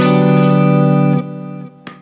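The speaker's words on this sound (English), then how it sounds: "Clean tone again." A loud, sustained electric guitar chord rings out, then cuts off abruptly and fades, ending with a short scrape.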